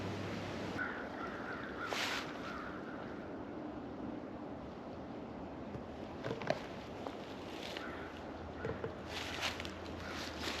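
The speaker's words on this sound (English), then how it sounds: "crows cawing as a group, where that behavior is called mobbing behavior" Several harsh caws from a group of crows mobbing ring out at a distance over a steady outdoor wash of wind-like noise, scattered irregularly across the stretch.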